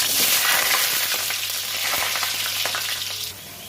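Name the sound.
potato frying in mustard oil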